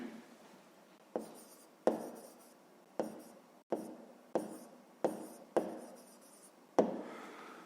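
A pen writing an answer on paper during a fifth-grade math exercise, heard as a sequence of close, quiet scratching strokes, each starting with a sharp tap and fading, about eight in a row.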